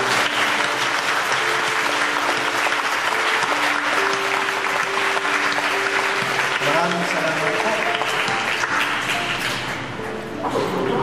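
A congregation at a Catholic healing Mass breaks into long, loud applause, a dense continuous roar of clapping that runs steadily for several seconds, with a voice speaking briefly over it near the end.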